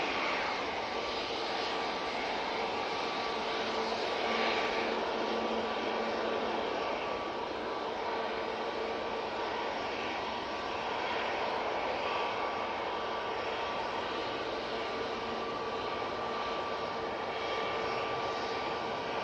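A TUI jet airliner approaching at Manchester Airport, a wide, sustained engine roar from some distance away, holding fairly even with slight swells as it draws nearer.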